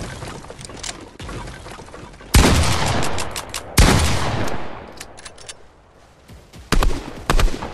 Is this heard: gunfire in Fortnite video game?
yes